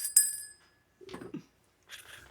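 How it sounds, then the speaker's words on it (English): A small hand bell rung close to the microphone during a tabletop role-playing game session, one bright ringing strike that decays over about half a second, followed by a brief low clatter and a faint later burst. "I had a bell here that I can occasionally just ring near the mic"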